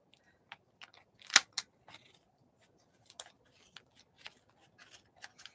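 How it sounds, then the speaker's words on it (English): Scissors cutting the edge off a nylon magazine, a few sharp crisp snips with one loud cut near the start, then scattered quieter clicks and trims close by. "we got to cut some of this edge off"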